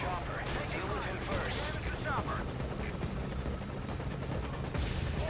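Helicopter in the video game Metal Gear Solid V: Ground Zeroes, a steady rotor and engine roar filling the scene with chirpy game effects and bursts over it, continuous and moderately loud.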